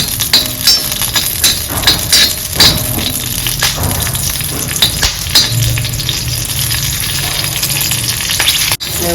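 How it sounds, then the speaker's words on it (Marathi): Onions sizzle loudly and continuously in hot oil in a pan, for stuffed eggplant, with occasional clinks and stirring scrapes of a spatula over the constant frying hiss. "कांदे तळले आता काढून घेतो"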